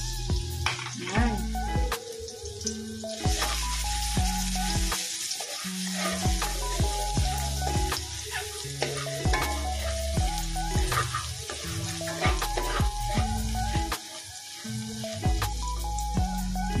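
Garlic sautéing in a frying pan for chopsuey with meatballs, a steady crackling sizzle with stirring clatter and utensil scrapes throughout.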